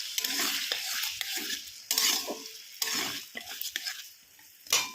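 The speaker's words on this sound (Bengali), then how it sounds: "ভালো করে মশলার সাথে আলু আমি ভেজে কষিয়ে" Chandramukhi potatoes fry in a pan with ground spices for a vegetarian soybean curry. A utensil stirs and scrapes them in repeated close strokes over a soft, steady sizzle, with no talking.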